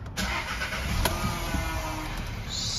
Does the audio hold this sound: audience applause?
no